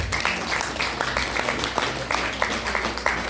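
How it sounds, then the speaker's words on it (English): Applause from an audience of Lions Club members at a district centennial gathering, a moderate, steady patter of clapping with low background hum, heard alone without talk. "the Lions of District 301A2 deserve a warm round of applause"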